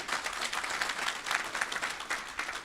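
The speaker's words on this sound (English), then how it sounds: "Please applaud him." Audience applause at a talk about bully-free zones, a fairly quiet, slightly distant patter of many hands clapping in uneven swells for a few seconds.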